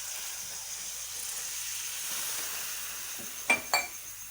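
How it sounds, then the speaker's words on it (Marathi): Water is poured into fried tomato purée in a pan for cashew curry. After a faint sizzle, a sharp, brief double burst of hissing rises near the end. "आता आपण याच्यात पाणी टाकूया।"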